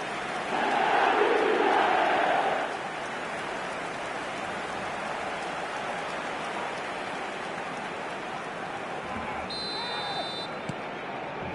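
A football stadium crowd roars in a loud surge of massed voices that soon settles into a steady, distant wash of crowd noise, and a brief electronic tone sounds near the end.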